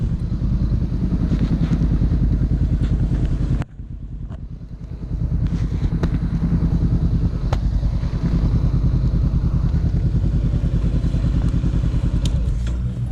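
Motorbike engine running nearby with a steady, loud rumble, briefly dropping as it is slowed and parked before idling on with faint clatters and knocks.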